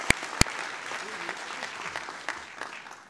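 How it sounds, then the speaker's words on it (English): Applause from the audience at a generative AI housing finance TechSprint demo day, a moderate, continuous spread of clapping opened by a couple of sharp nearby claps and with faint voices beneath. "Round of applause."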